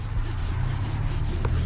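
Stained car upholstery is scrubbed with steady back-and-forth rubbing, a close, rhythmic brushing swish repeating about every fifth of a second with no talk.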